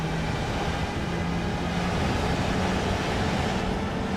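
A test train running in Germany in the video game Train Sim World 5 gives a steady, continuous low rumble and hum from the cab, with no talk over it.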